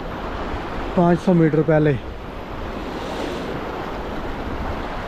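A rushing river in the Naran valley of Pakistan flows as a steady, broad roar throughout, with someone speaking briefly over it near the start.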